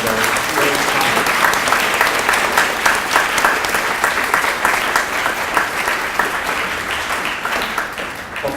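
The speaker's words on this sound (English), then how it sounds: "let's give Brock and Scott a round of applause for their great comments" Loud, sustained audience applause following a presentation on the business and science of brewing, many hands clapping in a thick continuous roar that fades slightly toward the end.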